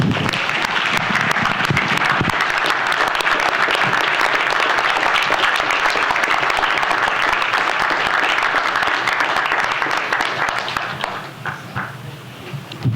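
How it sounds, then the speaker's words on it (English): Sustained, dense applause from a council-chamber audience at a city council meeting, welcoming a group of visiting middle school students; loud and steady for about eleven seconds before thinning into scattered claps. "Let's give them a round of applause."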